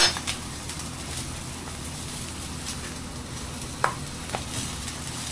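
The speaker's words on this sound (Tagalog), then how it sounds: "Tapos, lagyan natin ng butter." Butter melting in a preheated pan for a garlic seafood dish, producing a faint, even sizzle with a couple of light utensil clinks.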